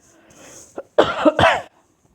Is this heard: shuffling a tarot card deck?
no